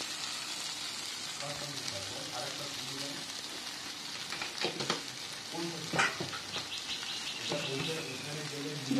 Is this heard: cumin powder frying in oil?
yes